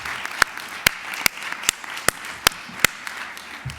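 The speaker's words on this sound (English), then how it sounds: "I want to take a moment and ask all the speakers on this and all the other panels to applaud the audience" Conference panel speakers clap for the audience in a sparse, slow rhythm of about eight distinct, near claps spaced roughly half a second apart over a low room hum.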